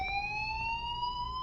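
A fire alarm in the video game Life Is Strange sounds as one steady, loud electronic tone with a very slow rising drift. It holds unbroken the whole time, with no talking.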